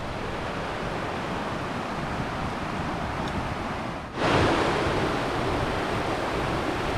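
Mountain stream rushing near Memencho Lake in Sikkim, a constant loud broadband roar of flowing water heard up close, briefly dipping and then swelling slightly louder partway through.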